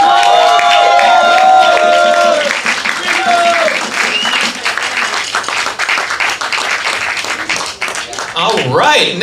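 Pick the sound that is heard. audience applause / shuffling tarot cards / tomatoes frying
audience applause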